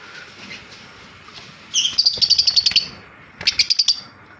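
Pet lovebirds and conure parrots offered for sale give two quick bursts of shrill, rapid chirps, close and clear over a quiet background.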